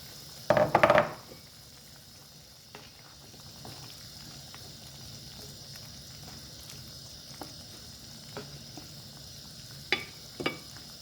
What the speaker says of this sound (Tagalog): sunod ilagay ko na guys ang ating carrots